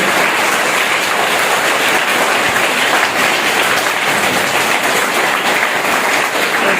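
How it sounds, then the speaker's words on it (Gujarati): Schoolchildren clap loudly at a primary school morning prayer assembly on the eve of Ram Navami, a dense, steady wash of applause lasting throughout without a break. "એકવાર એને જોરદાર તાળીઓથી આપણે વધાવીએ"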